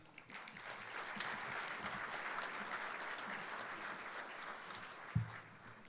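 Steady applause from a banquet audience at a fire department recognition dinner in Indianapolis, welcoming the host to the stage; even clapping holds throughout, with one sharp thump near the end.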